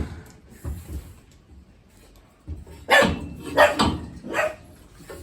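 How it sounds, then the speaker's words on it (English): A dog barks in short, sharp, fairly close woofs: a couple of scattered barks early on, then a louder cluster of three or four in quick succession, with no talking. "Who are you barking at now?"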